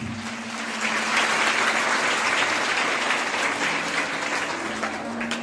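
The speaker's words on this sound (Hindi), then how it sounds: "जोरदार तालियां" An audience bursts into loud applause honouring a police officer, with a thick, even wash of clapping that swells quickly and holds steady for several seconds, close and unbroken.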